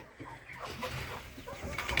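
A rooster crows and clucks amid farmyard background noise in a poultry house, moderately close, with scattered bird sounds around it.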